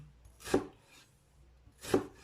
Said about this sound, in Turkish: soğanımızı ince ince doğrayalım